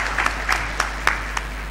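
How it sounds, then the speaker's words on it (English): Brief audience applause at an engineers' registration board anniversary session, steady crowd clapping over a constant low hum with a few sharp claps standing out. "let us thank Dr. Masika very much by giving another round of applause"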